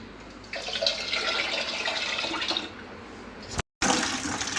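Water poured steadily into a bucket while rice is washed, a continuous close splashing rush that briefly cuts out near the end.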